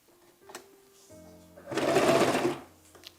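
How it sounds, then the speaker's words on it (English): A sewing machine stitches bias tape onto a little girl's dress, with a few soft mechanical clicks and then a loud whirring stitching run of about a second before it stops. "I'll be sewing along the first demarcation on the bias tape, which is technically a 1/4 inch sewing allowance"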